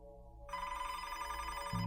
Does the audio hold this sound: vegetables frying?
no